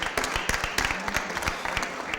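Scattered claps at a city board of aldermen meeting, a small group clapping unevenly at a moderate distance with no talking.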